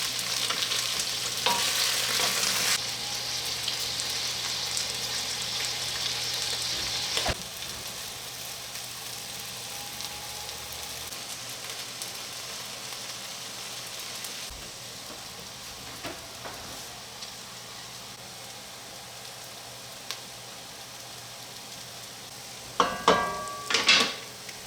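Beef browning in a pot for brown beef stock, a steady sizzle that fades over time, with occasional spoon scrapes and a few sharp clanks of the pot near the end, no talking.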